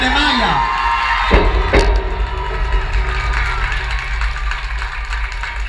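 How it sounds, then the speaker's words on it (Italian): A talent show audience in a small Italian town applauds and cheers for a dance act, a broad crowd roar with clapping and whoops; a voice speaks over it early and a thump sounds partway through. "Applauso anche per la categoria del ballo, Martina e Maya."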